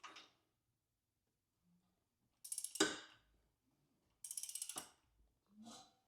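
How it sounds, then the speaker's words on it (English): A ratcheting wrench snugging a 10 millimeter bolt on a C5 Corvette engine during a cam install, heard as short bursts of rapid clicking pawl ticks, fairly close and quiet, separated by silent pauses. "I just snugged that up as best as I could with a ratcheting wrench."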